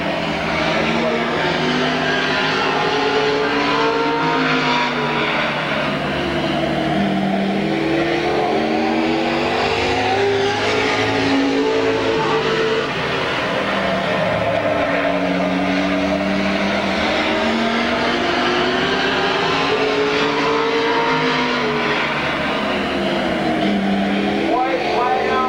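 Race cars lapping Midvale Speedway in 1995, engines droning loudly and steadily throughout with rising and falling pitch as cars pass, and a voice talking over the roar.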